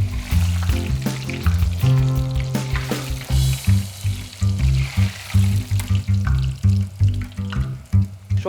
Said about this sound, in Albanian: Marrim parmigianin, do e skuqim tash në vaj.